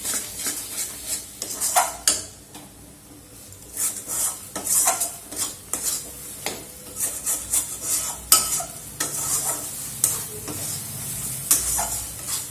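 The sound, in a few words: stirring lote fish jhuri with coriander leaves in a pan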